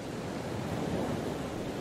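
Wind rushing around a doomed balloon high in the clouds in a VR escape game, a faint steady windy hiss with no voices.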